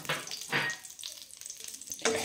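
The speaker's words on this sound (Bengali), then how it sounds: "এর মধ্যে দিয়ে দিলাম কালো জিরে একটু ভাজা ভাজা হয়ে গেলে এর মধ্যে দিয়ে দিলাম কারি পাতা" Nigella seeds and curry leaves fry in hot mustard oil, giving short bursts of crackling sizzle with quiet gaps between, close and fairly soft.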